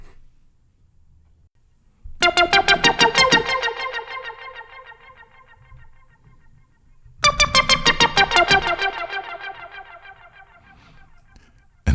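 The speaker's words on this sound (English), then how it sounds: "that's how you can play the iconic synth sound" Two bright, buzzy synth lead phrases ring out with rapid pulsing notes, each trailing into echoing delay and reverb tails, separated by near silence.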